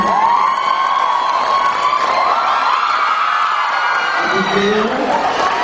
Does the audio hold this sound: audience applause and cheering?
yes